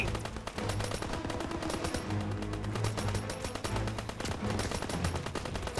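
Machine gun fire in the Call of Duty WWII video game: continuous rapid bursts of automatic gunshots, loud and dense throughout, with layered shots from several weapons in a battle scene.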